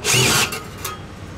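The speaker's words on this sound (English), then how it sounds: "Now you have to use an extension drill because you cannot get a drill deeper than these fins." Loud, brief whirr of an extension drill driving out screws in the cooling fins of a Dometic RV fridge, cutting off after half a second and leaving a fading rattle.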